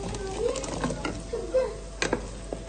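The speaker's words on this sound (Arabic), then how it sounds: "هنزل بقى بالصلصه عليها" Tomato sauce goes onto lightly browned onions frying in a pan, giving a soft sizzle with intermittent stirring scrapes and clinks, moderately close and without talk.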